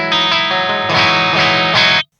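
An electric guitar played through a Victory Kraken MKII amplifier in clean mode, bridge pickup, rings out as a sustained strummed chord, re-struck a few times over two seconds with a bright, full tone, then cut off abruptly.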